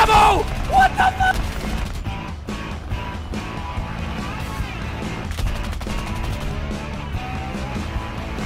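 Machine-gun fire in War Thunder: sustained bursts of rapid automatic shots with sharp crashes, loud and continuous over a dense game soundscape, with no talk over it.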